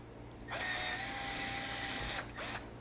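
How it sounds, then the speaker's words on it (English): A power drill bores a quick pilot hole for a turn signal light kit, a close, high whirring burst of about one and a half seconds, followed by a short second pulse of the trigger. "I'm going to just drill a quick pilot hole here."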